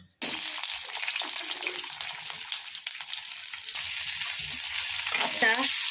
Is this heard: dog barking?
no